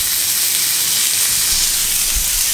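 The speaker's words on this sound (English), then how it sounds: "This is my extractor fan." A kitchen extractor fan runs with a steady, loud broadband whoosh, while a steak sears nearby and adds a faint sizzle beneath it.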